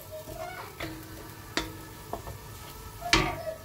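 A cumin, coriander and turmeric spice paste being stir-fried in oil, a soft low sizzle broken by a few sharp spatula clinks and scrapes against the pan.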